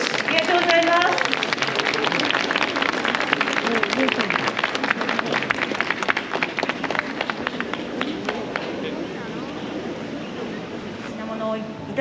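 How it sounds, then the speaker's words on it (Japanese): A crowd claps and applauds at a festival event at Ikuta Shrine in Kobe, Japan, a sustained patter of many hands under continuous talk from an announcer, thinning toward the end. "盛大な拍手ありがとうございます。"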